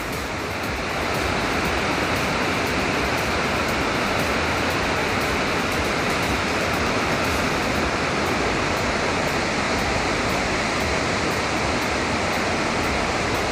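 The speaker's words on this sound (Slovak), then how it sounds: "pri tejto benzínovej pumpe je takýto parádny výhľad na tie vodopády" Waterfalls near Jajce roar as a dense, unbroken wall of rushing water that stays loud and steady throughout, with no voices over it.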